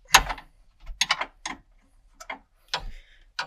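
Ratchet clicking in short separate bursts while loosening the 3/4 bolt and 9/16 nut through the brake pedal of a Dodge D100 Sweptline, close and fairly loud, with quiet pauses between strokes and no talk.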